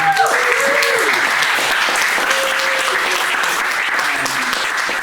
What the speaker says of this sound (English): Another big round of applause for John